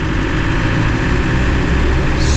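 A classic Land Rover Defender's engine drones loudly and steadily from inside the cabin, a dense low rumble with no breaks while driving.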